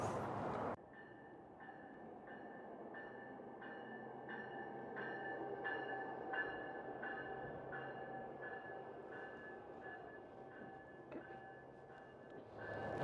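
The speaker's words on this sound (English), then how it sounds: "I can even see one of my trains here." A Denver RTD light rail train rolls past at a distance, giving a steady low rumble with faint rhythmic wheel clacks and a sustained tonal whine, heard from a bridge on a windy evening.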